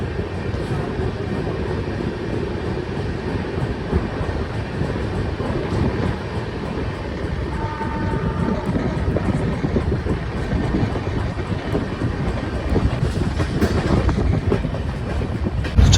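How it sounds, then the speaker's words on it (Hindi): The Mandore Express passenger train pulls out of a station, a loud steady rumble of rolling wagons with faint clickety-clack building gradually over sixteen seconds, no voices over it. "और ये लोग चल गई अपनी ट्रेन।"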